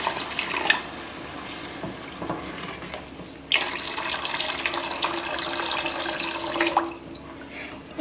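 Water is poured into curry gravy in a pan while making kofta (meatball) curry, giving a steady splashing rush that starts and stops in two close bursts.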